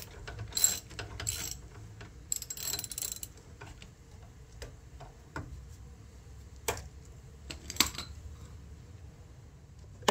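A 5mm Allen wrench slowly turns out a stripped bolt holding the crankshaft position sensor on a Porsche Boxster, producing faint, sparse metallic ticks and scrapes spread over quiet stretches, with a few sharper clicks.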